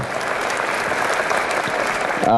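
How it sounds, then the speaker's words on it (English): A luncheon audience gives a full round of applause for volunteers, dense steady clapping from a large room, ending with a tonal sound at the close. "Give them a big round of applause."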